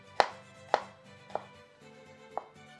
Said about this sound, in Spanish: Picamos también 3 jitomates, le quitamos el ombliguito y ahora sí los picamos.